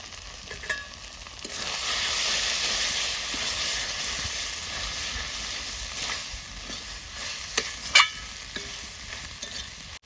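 Cauliflower stalk curry being stirred in a hot pan, a steady sizzling frying hiss with occasional scraping clinks of the spoon, close and continuous with no talk.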